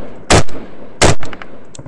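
Firefight gunfire recorded from a soldier's helmet camera: two loud, close gunshot bursts about a second apart, each followed by quicker, fainter reports and echo.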